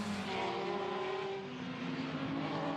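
The number 3 Audi GT race car heads out onto the Ningbo circuit in Blancpain GT Series Asia qualifying, its engine note rising and falling in pitch as it pulls away, loud and continuous.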